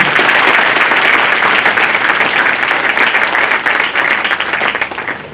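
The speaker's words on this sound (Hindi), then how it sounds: "उनके लिए जोरदार तालियों से हम चाहेंगे स्वागत करें सभी लोग" A crowd at a bar council gathering gives loud, continuous applause welcoming a speaker, steady throughout and tapering slightly toward the end.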